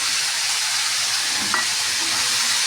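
Soybean chunks and chili hitting a hot pan of oil, a steady close sizzle and frying hiss throughout with a faint stir scrape midway, no voices.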